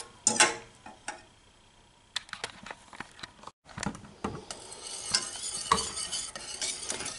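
A spoon stirs coconut cream pie filling as it thickens in a pot over low heat, giving soft scrapes and light clicks with a faint bubbling beneath and a brief dropout midway.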